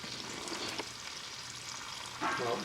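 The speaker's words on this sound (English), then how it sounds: "Sizzle, sizzle." Food sizzles and fries in a pan in a home kitchen, a continuous close crackle with stirring and a louder burst of sizzle near the end.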